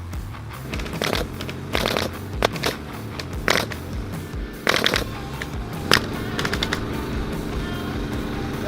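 A staple gun fires staples one at a time during a tiger habitat build, giving about a dozen sharp, loud snaps at irregular intervals over a steady background hum.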